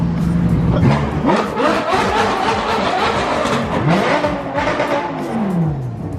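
Loud, close supercar engine revving at a car show with several rising and falling sweeps, a throaty roar that keeps climbing and dropping without pause.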